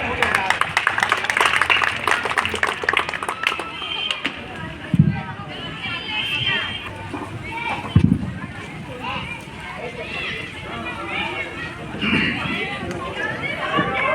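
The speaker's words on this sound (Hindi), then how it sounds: "हम लोग ताली बजाकर स्वागत करें" An audience claps to welcome a speaker at a Guru Ravidas Jayanti gathering, a dense patter of many hands with a voice talking over it.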